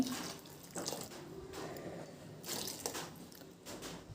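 Water splashes and gurgles in short bursts as it is poured into a mixer-grinder jar while making chutney, faint and close, with no talking.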